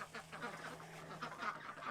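Ducks at a chicken coop quack in short, busy bursts, close and moderately loud, with no voices over them.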